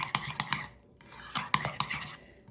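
Salad being stirred in a bowl for a cowboy salad, with several quick scraping, clinking strokes of a utensil in two short bursts separated by a brief pause, close and fairly quiet.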